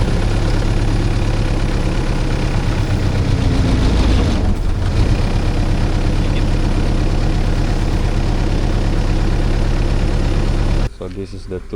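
A mini excavator's diesel engine idles loudly and steadily nearby, with a low rumbling drone and a brief dip mid-way, before the sound cuts off sharply near the end.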